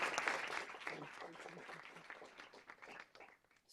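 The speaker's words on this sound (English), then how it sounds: "let's give them a round of applause for what they have done" Audience applause after introductory remarks at a community outcomes session, a faint, dense patter of many hands that slowly thins out toward the end.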